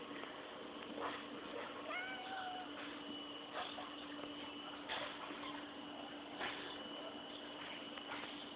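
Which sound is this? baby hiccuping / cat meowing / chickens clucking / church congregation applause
cat meowing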